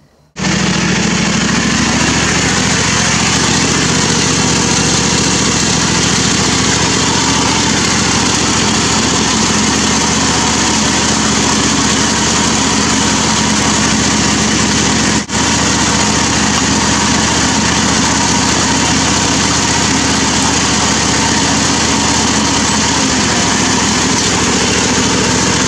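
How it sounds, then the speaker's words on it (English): A John Deere lawn tractor pulling a reel mower outdoors: a loud, close, steady small-engine drone that starts abruptly and runs unbroken, with a faint clattering whir underneath. "I bet the John Deere wants a turn pulling it"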